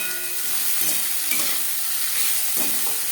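Fried potato pieces seasoned with salt and turmeric are stirred in a hot pan for egg aloo bhujia, giving a steady loud sizzle with repeated scraping strokes of the spatula and no talking.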